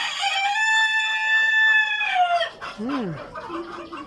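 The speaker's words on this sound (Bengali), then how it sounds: "চলেন আজকে খাবার দিব, মুরগিরে খাবার দেওয়া দেখাই।" Egyptian Fayoumi chickens at a poultry farm, with a rooster crowing loudly and close by, followed by short clucks and calls from the flock.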